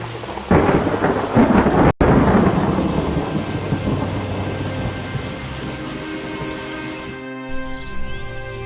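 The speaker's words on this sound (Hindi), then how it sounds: "अचानक गांव में तेज बारिश शुरू हो जाती है, जिससे फसलों पर बुरा असर पड़ता है।" Heavy rain pours down on a village with a sharp thunderclap near the start, followed by a long rolling rumble over steady, dense rainfall that fades toward the end.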